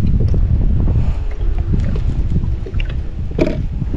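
Strong outdoor wind buffets the microphone beside the water during shrimp fishing, a steady loud roar with rumbling gusts throughout and no speech.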